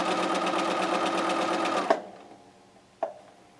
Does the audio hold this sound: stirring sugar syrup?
no